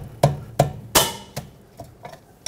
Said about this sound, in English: take a 13 millimeter wrench, break these caliper to bracket bolts free